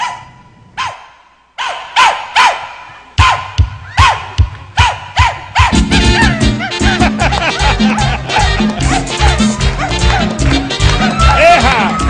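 Several dogs bark and yip in sharp separate bursts at first, then a dense overlapping chorus of barking builds and continues loudly to the end, with crowd-like noise mixed in.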